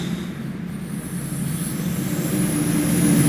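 A DB BR423 S-Bahn train in Train Sim World 2, driving through a snow storm in Köln, gives a steady low rumble of wheels and motor that slowly swells louder, with no voices.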